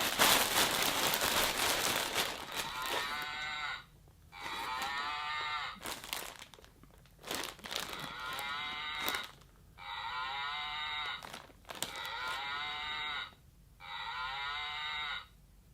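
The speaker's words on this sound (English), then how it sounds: "Melissa and Doug mooing cow" A Melissa and Doug toy cow gives several electronic moos in a repeating pattern, each long buzzy low call separated by short pauses and crinkly handling noise, close and fairly loud.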